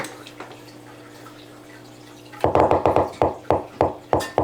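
Electric eel pulses come through an underwater speaker as a quick train of sharp, loud clicks and pops after a quiet hum-filled lead-in.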